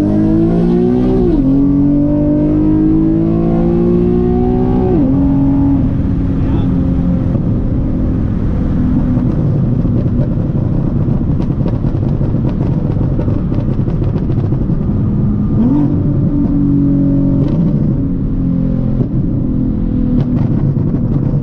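A tuned Nissan 370Z Nismo engine revs hard through an acceleration pull, its loud rising drone stepping down at gear shifts and climbing again, steady throughout with some voices faintly under it.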